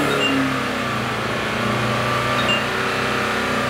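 A car engine is held at a steady 4,000 RPM with the accelerator pressed, giving a loud, constant, close drone with no break.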